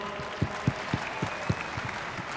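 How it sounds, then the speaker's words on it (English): A conference audience at a Bitcoin event claps; the sound is quiet and distant, with a handful of distinct claps standing out at a quick, roughly even pace over a soft crowd bed. "can we give a massive round of applause to the team at Bitcoin Magazine, David Bailey, for putting this on?"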